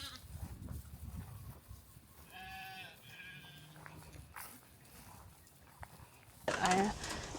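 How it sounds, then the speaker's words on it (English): Sheep on a small farm bleat in a couple of brief calls at a moderate distance, mixed with outdoor handling noise and a person talking nearby. "We are going to be moving the sheep from this side to this side."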